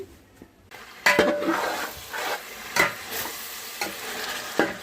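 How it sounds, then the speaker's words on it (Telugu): Chicken frying in oil in a pot for biryani, with a steady sizzle and repeated stirring scrapes and clinks of a utensil against the pan, close and alone. "ఇందులోనే వేగిపోవాలి చికెను ఆయిల్ అంతా పైకి వచ్చేయాలి"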